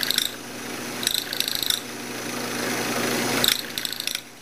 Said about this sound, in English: this next little video shows how I cut the how I drill the dowel holes into these short stretcher ends